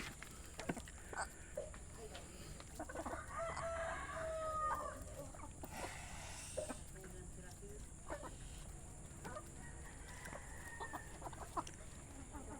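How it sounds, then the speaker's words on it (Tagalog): Chickens cluck and a rooster crows outdoors at a distance, with a constant high insect-like hum and some faint voices in the background. "yan yung mga alagang manok dito mga kabagay ni ano ni Dipunto Garts Marquez"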